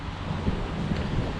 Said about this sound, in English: Quite windy today, unfortunately